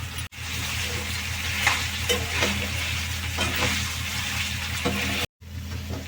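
Chicken and onions sizzle steadily in a pan, with stirring scrapes and occasional spatters over a constant frying hiss, interrupted by two brief dropouts.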